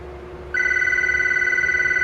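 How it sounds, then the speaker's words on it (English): Phone ringing with an incoming call starts abruptly midway as a steady, loud electronic ringtone tone that holds continuously to the end, close and alone with no talk. "And here comes a phone call"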